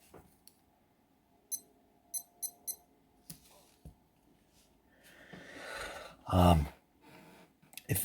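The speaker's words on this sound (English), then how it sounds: "Guess you can hear the beeping." A few short, high electronic beeps in quick clusters, fairly faint, followed by louder rustling and a thump.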